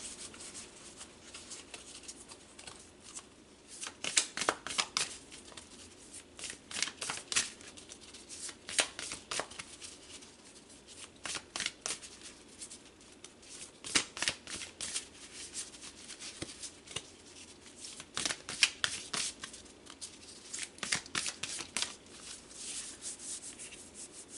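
Tarot cards are shuffled close up, giving soft repeated riffling and rubbing bursts in an irregular rhythm that recur across the whole stretch, fairly quiet and with no voice.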